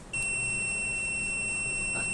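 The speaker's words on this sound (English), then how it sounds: "buzzer also activates" A buzzer in a light-dependent resistor circuit switches on with a sudden sharp, piercing electronic tone that holds steady and loud without a break.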